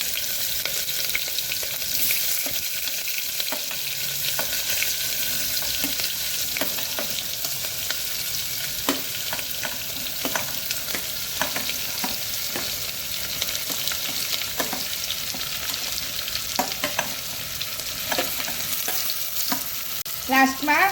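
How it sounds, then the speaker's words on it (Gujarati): Chopped vegetables go one by one into a hot tempering with fenugreek powder and asafoetida for Gujarati vegetable khichdi, sizzling and frying steadily with repeated stirring clicks throughout, no talk. "હવે આપણે જે બધા વેજીટેબલ કટિંગ કર્યા હતા એ 1 બાય 1 એડ કરીશું."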